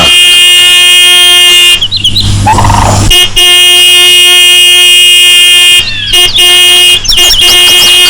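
A vehicle horn blares loudly and up close in long sustained honks broken by a few brief gaps, with engine noise running underneath.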